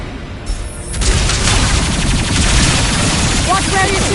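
Gunfire in the video game Mass Effect 2, a loud, sustained burst of rapid automatic shots and booms that surges in after a brief quieter start, with voices heard under the din.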